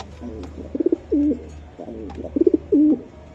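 Racing pigeons of the Budapest breed coo in repeated soft, throaty phrases, each rolling burst ending in a drawn-out low hum, close by and clear, twice in a row.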